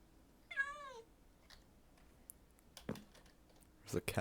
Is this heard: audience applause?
no